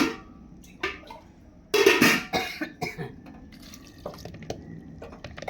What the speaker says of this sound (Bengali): এবার জল দিয়ে দিচ্ছি, জল পরিমাণ মতন দিতে হবে।